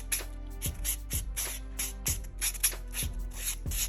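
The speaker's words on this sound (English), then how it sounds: "I'm gonna do a little buffing" A handheld nail buffer rubs across a decal nail in short, regular scrubbing strokes, each with a soft bump, repeating about twice per second.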